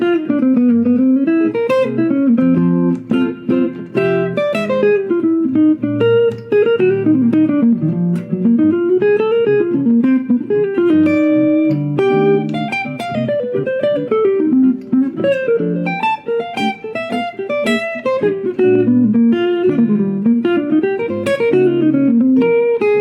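Jazz guitar soloing over chord changes, with a continuous flow of single-note lines mixing wide intervals and chromatic approach notes, played alone and close for over twenty seconds without talking.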